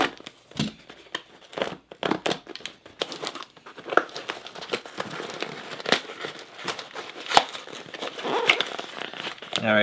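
A heavily taped package from overseas is ripped open by hand, close crinkling, tearing and crumpling of tape and cardboard in irregular bursts throughout, with no one speaking.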